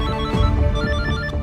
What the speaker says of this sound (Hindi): अरे ये तो अभिनव का फोन है। अरे उठाओ ना